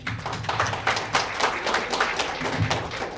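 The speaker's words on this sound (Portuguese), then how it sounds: "Aplauso." Small group at a formal meeting giving brief applause after a motion passes, scattered close hand claps with uneven rhythm, fairly quiet, no talk.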